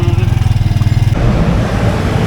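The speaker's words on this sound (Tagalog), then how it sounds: "nagko-commute tayo, nagta-tricycle tayo ngayon" Motorized tricycle ride on a commute, its engine pulsing rhythmically up close, then a smoother rush of road noise as it moves on.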